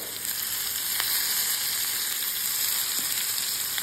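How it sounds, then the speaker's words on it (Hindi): Bottle gourd mixed with gram flour sizzles and fries steadily in a pan over a medium flame, with a few soft scrapes of stirring, close and continuous. "और यहाँ पे हम इसको अच्छे से मिक्स करते हुए भूनेंगे।"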